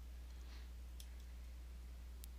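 A computer mouse clicks OK in AGI32 lighting software: two or three faint, sharp clicks over a steady low hum, with no voice.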